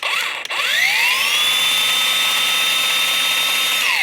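A battery-powered belt sander fitted with a 40-grit belt runs at its lowest speed setting, starting with a rising whine that settles into a steady, loud, close motor hum held without a break.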